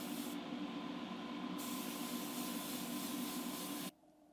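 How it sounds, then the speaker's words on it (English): A spray gun hisses steadily as quicksilver flake paint goes on over white primer, a continuous close airy spray that cuts off sharply near the end. "I want a super bright candy this time, so we're going to just spray straight over the white."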